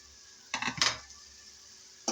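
Fried okra (bhindi) being stirred into spiced masala in a pan: two short bursts of spatula scraping and clinking against the pan, a pause, then another faint scrape at the end.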